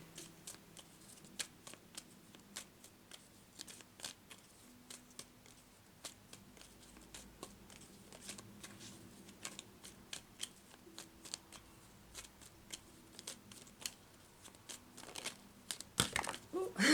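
Tarot cards from the Forest Fae deck are shuffled by hand, a long run of crisp papery flicks and riffles, close and fairly loud, with a louder rustle near the end.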